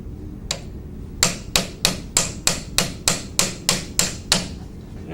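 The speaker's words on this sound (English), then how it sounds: "we're going to continue to hammer out the slide." A brass tuning slide gripped in slide removal pliers is hammered out with a run of about eleven sharp, evenly spaced metallic blows, close and loud, over a low background hum.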